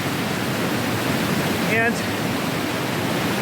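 A waterfall in the Alberni Valley on Vancouver Island gives off a steady, even hiss of rushing water, broken only by a short spoken word from a man.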